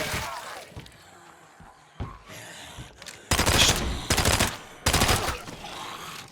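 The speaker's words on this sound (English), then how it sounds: "That was a lot of bullets just to kill that one guy." Gunfire in a zombie shooter video game: bursts of rapid automatic shots, several loud clusters in the second half, with quieter scattered shots and game noise before them.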